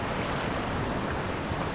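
River water rushes around someone wading across it on a mountain hike to a hidden waterfall in St. Vincent and the Grenadines. The flow makes a dense, steady roar with wind noise on the microphone and no voices.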